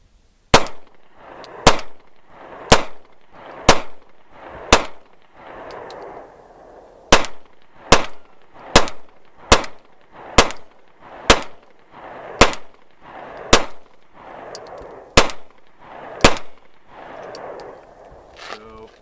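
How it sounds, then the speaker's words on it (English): A Smith & Wesson M&P .40 pistol fires a full 15-round magazine: loud, sharp, evenly spaced shots in a steady rhythm, with a talking voice between them. "let's go ahead and shoot this magazine and see how we go"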